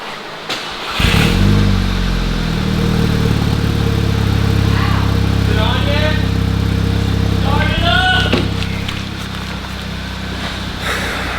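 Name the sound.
Volkswagen MK6 GTI engine cold start, upgraded K04 turbo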